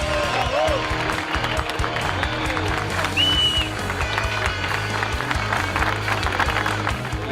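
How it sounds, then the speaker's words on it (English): Crowd applause and cheering for the winners of a race at the Turkish GP in Istanbul, a dense, continuous wash of clapping heard over music and a voice talking. "Give them a big round of applause"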